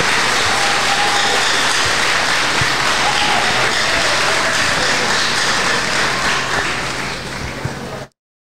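Sustained audience applause at a philosophy conference in Haiti, a dense, steady wash of many hands clapping for about seven seconds before tapering off and stopping abruptly.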